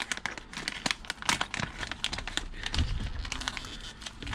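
Steady crinkling and crackling of a plastic bag, close up, with sharp scratchy bursts as a knife slices and tears through it.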